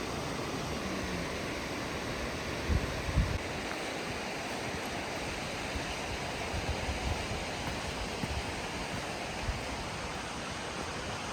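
Little Mashel River near Eatonville, Washington, rushing over rocks in a constant broad roar, loud and steady throughout with faint scuffs from nearby footsteps and no talking.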